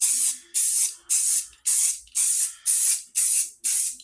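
Oil-based spray paint hisses out in eight short, even bursts, each a sharp puff that fades before the next, in a steady back-and-forth rhythm with no talk.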